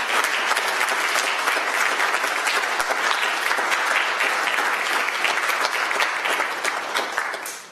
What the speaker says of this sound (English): So, nice round of applause,